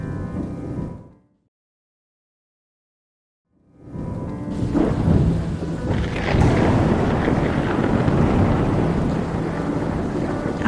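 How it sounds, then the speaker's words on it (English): A thunderstorm outside a house at night: after a brief dead silence, thunder rumbles in and heavy rain pours down, a loud, dense, continuous wash that keeps building. "Outside, thunder cracked and the rain poured heavier."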